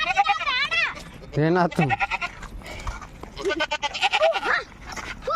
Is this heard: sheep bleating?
yes